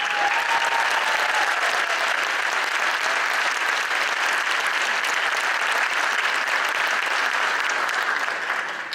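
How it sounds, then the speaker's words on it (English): Sustained audience applause at a school Christmas concert, a dense, even roar of many hands clapping in a hall, loud and steady throughout with no talking over it. "So you can clap."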